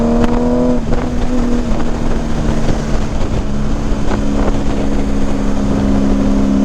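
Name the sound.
2018 Honda Goldwing Tour with Shark Road mufflers at full throttle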